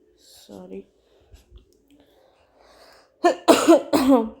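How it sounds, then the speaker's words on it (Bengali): A teacher coughs during an online maths class, a few harsh coughs and throat-clearing sounds, close and loud, between stretches of near silence and brief speech. "একটু কাশি হচ্ছে, সরি, তোমাদের একটু কষ্ট হচ্ছে শুনতে, বারবার আমি কাশছি"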